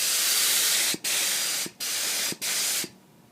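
An aerosol spray can laying a quick finish coat on a Carvin bass guitar neck: four steady, loud hissing bursts, each about a second or shorter, separated by brief pauses and followed by quiet.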